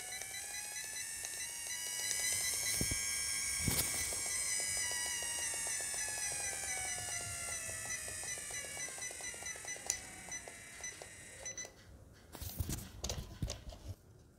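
A RocHobby 1:18 scale 4x4 off-road Unimog RC truck reverses with a steady, high electric motor whine that slowly drifts in pitch, and a few sharp clicks and rattles break in near the end.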